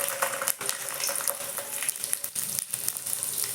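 Garlic frying in hot oil for methi kadubu, fenugreek dumplings, on a home stove: a steady, close crackling sizzle with brief sputtering bursts throughout.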